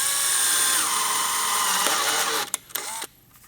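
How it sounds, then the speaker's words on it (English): A power drill bores holes into the bottom of ABS drain pipe, making a loud steady whine that holds for about two and a half seconds before it stops and restarts briefly, then falls silent. "I'm gonna drill these holes on the bottom of this ABS pipe just on the way to the end"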